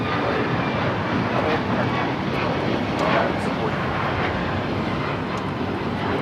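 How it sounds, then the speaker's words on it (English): An Alaska Airlines Boeing 737 MAX 9 takes off at LAX with a loud, steady broadband jet engine roar that holds throughout, outdoors at an airport. "This is Alaska Airlines 1442 taking off to Zihuatanejo on the MAX 9"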